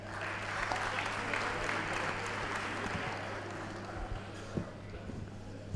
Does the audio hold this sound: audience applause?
yes